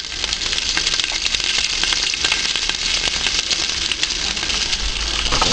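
Mustard seeds, fennel, cumin, dried red chillies and curry leaves sizzle in hot oil for sambar, a dense, close, continuous crackle with no voices.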